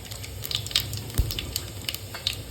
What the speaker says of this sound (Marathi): चांगलं थोडंसं गरम झाल्यावर जिरे आपले तडले पाहिजेत